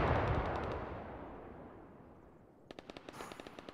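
Machine gun fire in a video game battle, a long fading burst rolling off into distance, then a quick run of sharp, rapid shots near the end, no voices.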